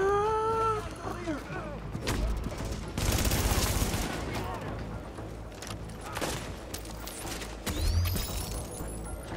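Sniper gunfire from rooftop players in The Division, mixed with other shots and combat noise. Sharp cracks land at irregular intervals amid a busy, noisy firefight, with a voice talking throughout.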